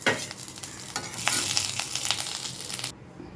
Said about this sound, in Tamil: நல்லா பொரியட்டும் கருப்பில் நல்லா பொரிஞ்சிடுச்சு